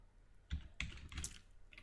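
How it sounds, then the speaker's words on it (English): A command is typed on a computer keyboard: a few short bursts of quick, close keystroke clicks, quiet, with no one talking. "this is the command I will type"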